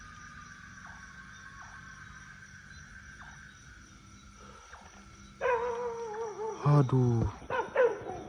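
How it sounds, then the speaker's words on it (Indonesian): A dog barks several times in quick, loud bursts near the end, following a quieter stretch with a faint repeating tone in the background; a person briefly exclaims once. "Anjing ni menyalak kat something"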